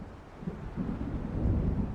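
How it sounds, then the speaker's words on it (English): Low rolling thunder of a storm closing in over open water in the game Alan Wake, a dull rumble that builds slightly in strength over two seconds with wind-like noise and no voices. "It seems there's a storm coming."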